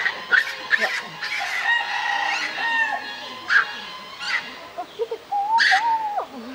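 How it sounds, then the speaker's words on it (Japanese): Chickens at a zoo give repeated sharp crowing calls and clucks, close and fairly loud, with people talking quietly between the calls. "鶏ね。"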